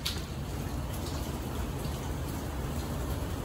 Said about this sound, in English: It is raining cats and dogs outside, as they say, like massive amounts of rain.